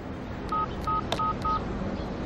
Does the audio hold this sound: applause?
no